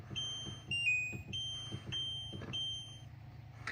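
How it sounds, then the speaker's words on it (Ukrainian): A Segway Lumina 500 portable power station gives a series of short electronic button beeps at a few different pitches, irregularly spaced, over a low steady hum and light clicking. "коли я тут щось вмикаю, вимикаю, станція пищить"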